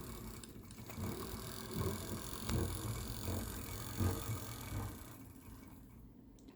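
A Bowser E6 Atlantic brass-frame model locomotive runs in reverse, a faint mechanical whir with small ticking, gear-like clicks and soft bumps spread across the clip.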